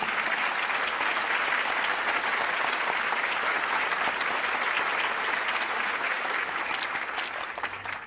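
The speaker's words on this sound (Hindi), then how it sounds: "उनका तालियों से स्वागत कीजिए।" Dense, steady audience applause at a stage award ceremony as an honoree is called up to receive a scholar's prize, loud and continuous before tapering off at the end.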